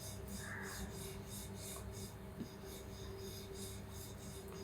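Puran poli dough rolled out with a rolling pin, faint soft rubbing strokes in a steady back-and-forth rhythm, close but quiet over a low background hum, no talking.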